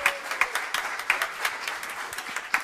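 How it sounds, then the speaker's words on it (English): A small audience claps for a speaker at a spiritual gathering, sparse separate hand claps scattered at a moderate level over a roomy background. "give him a round of applause"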